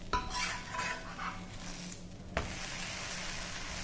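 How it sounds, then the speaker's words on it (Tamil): An oats dosa flipped over in a hot pan, a sharp utensil scrape and clatter near the start and another near the end, over a steady background sizzle of cooking batter. "இப்போ நம்ம இதை வந்து பிரட்டி போட்டுருவோம்."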